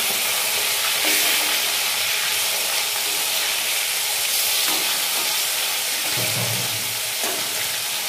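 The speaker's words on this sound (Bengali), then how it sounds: "পাল্টে আরেক পাশটা ভেজে নেব" Fish sizzling steadily as it fries in oil in a wok, a loud continuous crackling hiss that runs unbroken throughout with a few brief stirring bumps, no voices.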